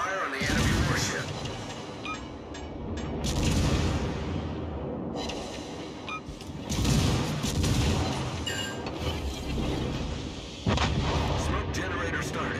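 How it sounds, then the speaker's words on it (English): Warship gunfire in the World of Warships game, heard as repeated heavy booming salvos and sharp blasts with whooshing shells. Loud, layered bursts with game voice callouts between the shots. "Concentrate fire on the enemy warship."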